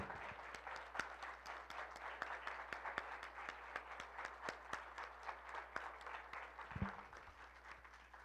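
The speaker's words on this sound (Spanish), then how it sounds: "un aplauso para todos." An audience at a photo archive conference gives applause after a journal presentation, with dense clapping sustained over eight seconds and a few sharper individual claps standing out, plus a brief low thump near the end.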